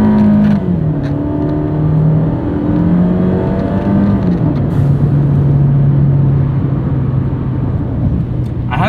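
A turbocharged engine in a 2017 Fiat 124 Spider accelerates hard with traction control off, its steady drone rising in pitch and holding loud and close for the whole stretch.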